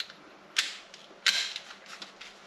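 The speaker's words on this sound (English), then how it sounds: "Then I have set my torque wrench to 26 newton meters." A torque wrench set to 26 newton meters tightens the wheel bolts on BBS LM rims of a Porsche 911 (996) Turbo, giving two sharp, close mechanical clicks less than a second apart, then quieter faint ticks over a low background.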